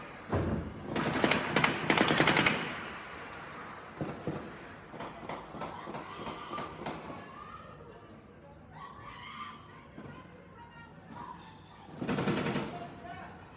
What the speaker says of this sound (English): you heard automatic gunfire going off there